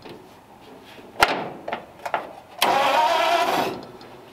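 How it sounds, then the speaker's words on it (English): A 1941 Lincoln V-12 with a newly replaced solenoid: a few sharp clicks and short cranking bursts, then the engine catches and runs loud and close for over a second. "got the engine cranking."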